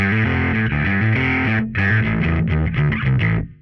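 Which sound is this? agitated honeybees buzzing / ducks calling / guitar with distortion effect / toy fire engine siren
guitar with distortion effect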